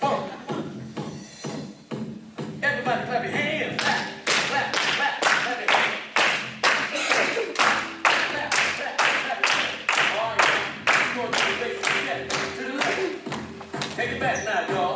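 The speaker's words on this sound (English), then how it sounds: "Everybody clap your hands. Clap, clap, clap, clap your hands." A crowd claps hands in a steady, even beat to a funk band's music, each sharp clap ringing out in a regular rhythm, with the music and a leading voice running underneath.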